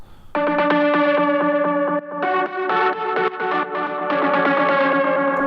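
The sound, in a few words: echo effect ducked by sidechain compression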